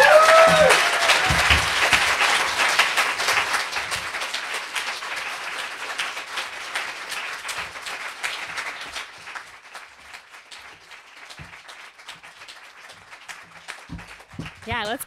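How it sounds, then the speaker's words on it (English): Audience applause at a literary reading event, a dense wash of clapping from a crowd that is loud at first and gradually thins and fades over the span, with a few voices near the end. "let's keep clapping"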